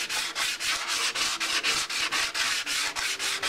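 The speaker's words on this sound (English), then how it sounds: "I don't want to sand into the metal so much that I weaken the tank." Body filler being sanded by hand on a motorcycle fuel tank during a Yamaha FZR restoration, a close, rhythmic rasping scrub of about a dozen quick strokes in steady succession.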